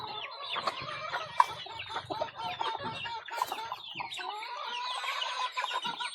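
Backyard chickens cluck and chatter while pecking at cracked corn, a busy close flock of overlapping calls with a soft crow-like note partway through.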